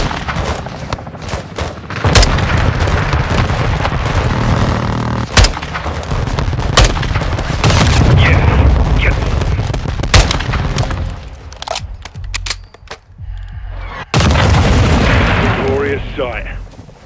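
Air strike explosions and heavy gunfire on a building during a Call of Duty Modern Warfare 2 mission, loud continuous rumbling blasts with sharp booming impacts, dense battle noise and some voices.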